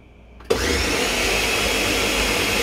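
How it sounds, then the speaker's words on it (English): Ninja blender running at speed, blending eggs and cheese for a flan; a steady, loud whirring drone starts abruptly after a short quiet moment and holds constant to the end, with no talking. "My blender is a Ninja blender, and it goes from 1 to 3."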